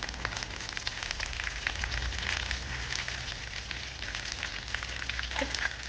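Mustard seeds fry in hot oil for a Sri Lankan pineapple curry, giving a steady soft sizzle dotted with small, quick crackles and pops throughout.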